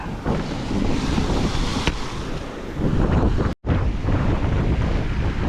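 Big waves surge and strong wind buffets the microphone along the flooded baywalk in Tanauan, Batangas, a loud, steady roar of surf and gusts with a momentary dropout midway.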